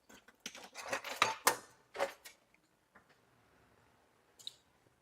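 Metal kitchen utensils clatter and clink as a whisk is picked up from among them, a quick burst of sharp clicks and scrapes followed by a few faint, scattered taps.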